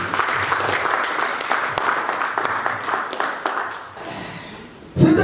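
A church congregation applauds and cheers, a dense sustained wash of clapping from many people that fades toward the end before a sudden loud burst cuts in.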